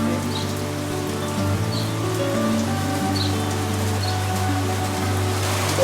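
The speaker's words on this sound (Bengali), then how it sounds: "এখন আবার বৃষ্টি হচ্ছে" Steady rain falls across a rural yard in Noakhali, Bangladesh, a dense even hiss of drops hitting surfaces that stays constant from start to finish, with faint bird calls now and then and a low steady hum underneath.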